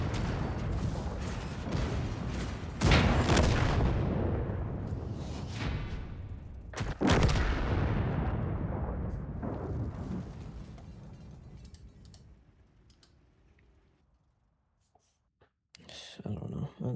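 Artillery fire in the video game World of Tanks: two heavy booming impacts land a few seconds apart, each trailing off into a long rumbling decay, with voices talking over the action before a quiet stretch.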